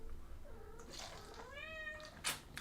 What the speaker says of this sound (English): Yes, kitty cat, I can hear you.